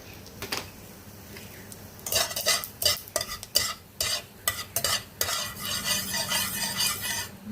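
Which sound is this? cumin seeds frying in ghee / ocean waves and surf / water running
cumin seeds frying in ghee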